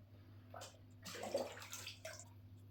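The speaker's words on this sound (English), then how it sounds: "Just keep on adding a bit of water." Water poured into a small betta fish tank, an Aqua One Betta Trio, in brief gurgling splashes and trickles, close and fairly quiet over a steady low electrical hum, with no talking.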